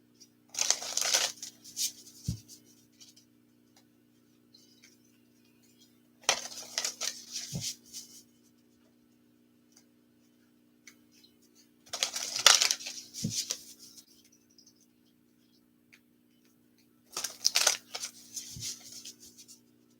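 A tarot deck is shuffled by hand in four separate bursts of rapid riffling and card slaps, close and crisp, with quiet pauses between them.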